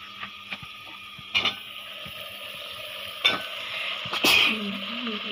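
Taro pieces are tipped into a pan of prawns already sautéing, then stirred. A steady sizzle of frying runs throughout, broken by a few sharp clattering scrapes of the spoon against the pan.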